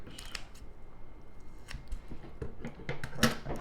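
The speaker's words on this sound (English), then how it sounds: "Those are good poultry scissors." Poultry scissors snip through raw chicken in a few quick, crisp cuts, with soft handling noises between them, close and fairly quiet.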